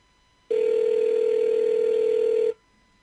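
A telephone call rings out on a recorded line: a single steady ring tone sounds for about two seconds, then stops, with quiet line hiss around it.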